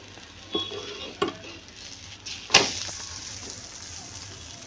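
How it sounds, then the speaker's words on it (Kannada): Egg omelette frying in oil on a tawa, giving a low steady sizzle with a few soft clinks and scrapes from a utensil, fairly quiet and close, with no talking. "ಈ ರೀತಿ ತವ ಮೇಲೆ ಆಮ್ಲೆಟ್ ಹಾಕಿದ್ದೀನಿ ಸ್ವಲ್ಪ ಆಯಿಲ್ ಸೈಡ್ಗೆ ಹಾಕೋತೀನಿ"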